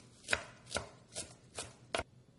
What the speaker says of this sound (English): And we'll chop that up.